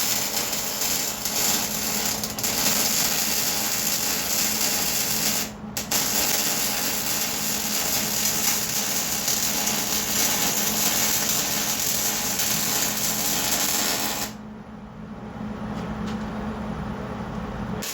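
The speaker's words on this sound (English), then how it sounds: "Just gonna weld every seam I can see." Welding seams on a steel excavator forklift attachment, a continuous close crackling buzz of the arc with a couple of short breaks and a quieter stretch near the end.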